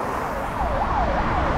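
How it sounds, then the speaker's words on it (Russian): An ambulance siren wails in the distance on a street in Mokpo, South Korea, its rising and falling tone repeating over steady traffic rumble. "А вот на дальнем плане проехал амбуланс."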